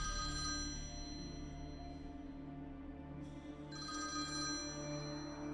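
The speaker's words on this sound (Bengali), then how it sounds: "ফোনটা বেজে উঠল" A phone rings in repeated electronic bursts, steady and continuous, heard alone without any talking.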